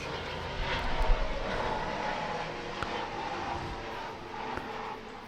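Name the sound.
airplane flying low over a house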